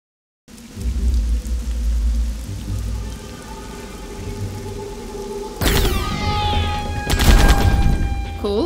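A combat music stinger from the video game Angry Bots bursts in with loud ringing tonal hits over steady game ambience and rumbling, a second sharp hit following shortly after.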